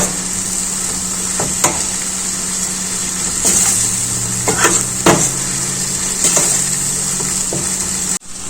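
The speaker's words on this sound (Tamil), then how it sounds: "இப்போ நம்ம எல்லாத்தையும் நல்லா வதக்கி விட்டுக்கலாம்" Onion and tomato gravy for a mushroom curry sautés in oil in a pan, a steady sizzle broken by sharp, irregular clacks and scrapes of a spoon stirring against the metal, with a low background hum.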